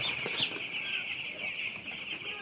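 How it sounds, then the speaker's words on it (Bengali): Chickens fill a farm on a winter day, with a constant high chirping and murmuring from the flock and occasional soft clucks under it, fairly close and steady. "দেখছেন আমার ফার্ম কিন্তু ভরে গেছে মুরগিতে"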